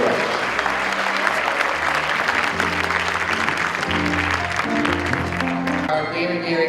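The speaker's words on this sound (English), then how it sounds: "Let's give all the principals a round of applause." An audience at an MLK celebration gives school principals a round of applause, a dense, steady clapping that lasts throughout with tonal music sounding beneath it.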